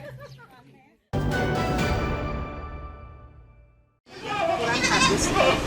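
Goats at a farm in Denpasar raising sacrificial goats before Eid al-Adha bleat in short, close bursts separated by abrupt breaks, amid other busy background noise and possible voices.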